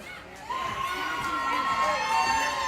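A hockey crowd in an arena cheers after a goal, rising into loud, sustained shouts and whoops with high-pitched children's voices that swell and hold to the end.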